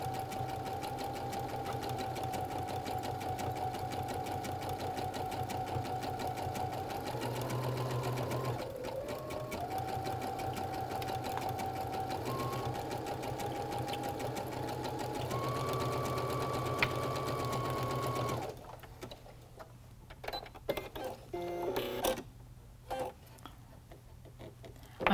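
A Baby Lock sewing machine fitted with the Creative 6 Foot stitches steadily and loudly for about eighteen seconds with a constant motor hum, then stops, leaving quieter handling clicks and rustles.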